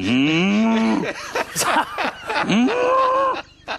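A cow lets out two long, loud, drawn-out moos close up, each one sliding in pitch, with a short break between them and nothing else heard.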